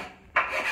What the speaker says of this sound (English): it's good to be safe and just do a bit of filing